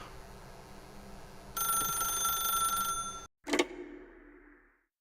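An old-fashioned telephone bell rings in the video game The Stanley Parable, one sustained metallic ring over faint room hum, cut off abruptly and followed by a short clunk as the receiver is picked up.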